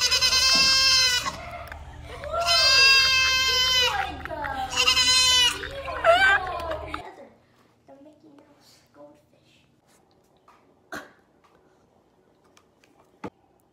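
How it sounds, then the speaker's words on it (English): Goats bleat in three long, loud, wavering cries in close succession, followed by quiet background with faint scattered clicks. "I have goats."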